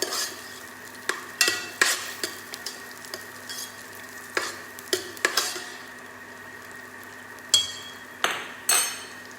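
Ingredients for Chinese dim sum radish cake sautéing in a pan: a continuous sizzle broken by repeated sharp metal spatula scrapes and clanks in an irregular rhythm, close and clear, with no speech.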